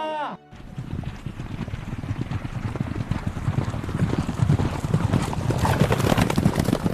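Many horses on an outdoor film set clatter in continuous overlapping hoofbeats, a dense drumming that swells louder toward the end, with a brief quiet start and indistinct voices mixed in.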